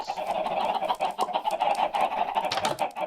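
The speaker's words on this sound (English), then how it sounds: "It's really loud chickens." Several video game chickens cluck and squawk loudly and continuously, a busy, overlapping flock chatter close by with no talking.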